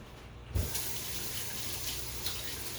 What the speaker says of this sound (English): Now I got to rinse my hands off.